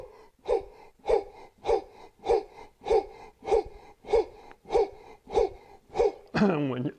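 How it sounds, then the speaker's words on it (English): A man performs a power breathing exercise, pushing about ten forceful, evenly spaced breaths in rapid rhythm close to the microphone, finishing with a longer voiced exhale. "breathing in and out as an exercise for the bronchial tubes"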